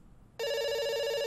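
Telephone in the game Dr. Langeskov, The Tiger, and The Terribly Cursed Emerald starts ringing abruptly after a short quiet moment, a bright continuous electronic bell tone, loud and close, with no talking.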